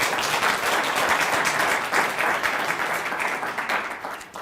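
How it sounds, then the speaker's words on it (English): A meeting audience gives a sustained round of applause, loud and dense throughout, gradually thinning toward the end. "I would like us to give a round of applause for the second time."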